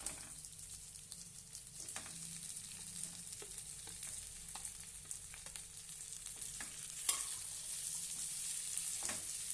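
Boiled potatoes fry and get stirred in a spiced pan with turmeric and coriander for Nashik-style vada pav, a steady close sizzle with scattered scraping clicks of the spoon throughout.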